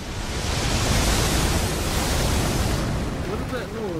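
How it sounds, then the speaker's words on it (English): A tidal wave of water crashing in Elden Ring, a loud, dense roaring surge of rushing water that fills the whole span and fades slightly at the end. "a tidal wave of water was hitting my way"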